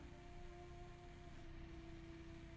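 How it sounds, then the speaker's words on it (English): A low, steady electrical hum with a faint tonal whine over a noisy rumble, quiet and constant, from a running generator in the video game What Remains of Edith Finch. "So that's the sound of a generator,"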